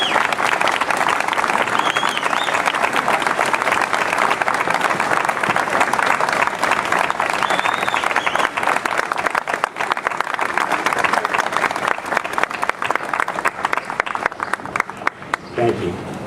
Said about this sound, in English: Let's have them stand and give them a nice round of applause.